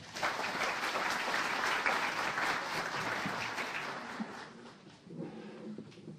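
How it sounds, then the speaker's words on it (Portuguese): An audience at a medical course on pre-hospital emergency care gives a round of applause: steady, moderately distant clapping that runs throughout and gradually tapers off. "Uma salva de palmas."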